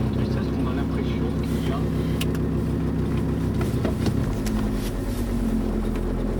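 A 1998 Volvo V70 TDI diesel engine idles with a deep, rough vibration from a failed engine mount, a constant throbbing rumble close up that shifts in tone partway through, with someone talking over it.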